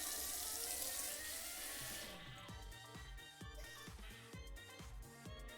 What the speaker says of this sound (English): we're going to add in the warm water